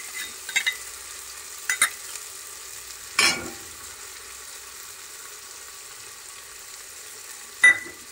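Grated garlic and ginger stirred into tomatoes frying in a pan, a low soft sizzle with a handful of short scraping stirs spaced apart, quiet and close, no talk.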